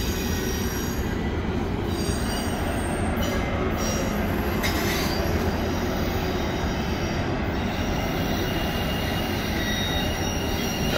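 A westbound CN freight train rolls steadily through the Pointe-Saint-Charles railyard, a loud, continuous rumble of heavy railcars with a high metallic wheel squeal running over the top throughout.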